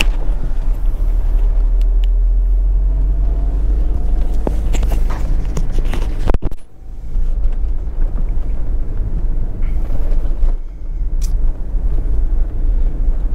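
A 1999 Peugeot 306 Cabriolet 1.6 drives with a steady low engine and road rumble, while scattered creaks and clicks from the convertible body break through, including a sharp knock near the middle.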